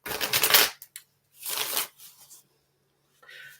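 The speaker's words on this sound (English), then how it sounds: "let's take a moment and shuffle the cards" A deck of tarot cards shuffled by hand close up, in a few crisp riffling bursts separated by short pauses, with soft taps and slides of the cards in between and no speech.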